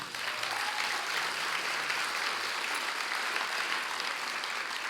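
Audience at a city State of the City event applauds its sponsors with steady, dense clapping that fills the room evenly from start to finish.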